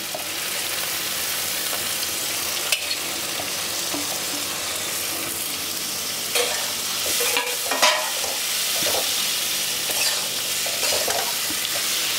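Vegetables stir-fry in a pan with freshly added grated coconut, giving a continuous close sizzle. Scraping and clattering from the stirring come through, with a few louder knocks along the way.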